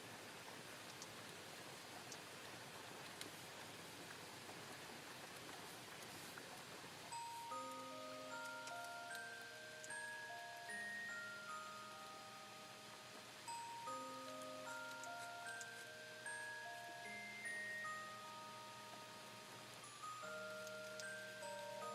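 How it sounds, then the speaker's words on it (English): Rain falls in a soft, continuous hiss, quiet and even, with a gentle melody of music joining partway through and playing over the steady patter. "Ah, the sweet sound of rain."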